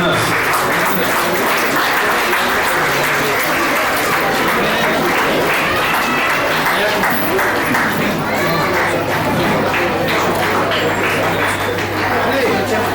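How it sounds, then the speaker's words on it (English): A crowd at a Rotary Club prize distribution for school winners claps loudly and continuously, a dense roar of many hands close by, with voices and chatter mixed in underneath. "Request everyone to sit down and clap for the winners."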